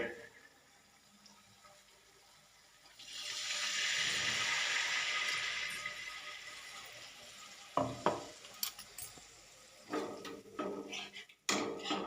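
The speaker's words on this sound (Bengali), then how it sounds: "এবার আমি মশলার বাটি ধোয়া জলটা গ্রেভি করার জন্য একটু দিয়ে দেব।" Spice-bowl rinse water poured into a sizzling katla fish kalia gravy in the pan: a broad hissing pour swells and fades, then stirring, light clatter and sizzle continue close by.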